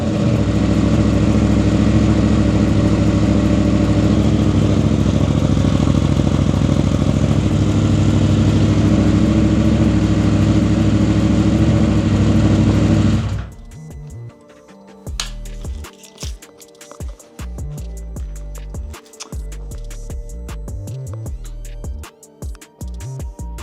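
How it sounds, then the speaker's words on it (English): A KTM 890 Adventure motorcycle engine with no exhaust fitted runs loud and raw for about thirteen seconds, a dense, heavy roar. It then cuts out, leaving quieter clunks and mechanical knocks. "I'm gonna give it one startup. No exhaust."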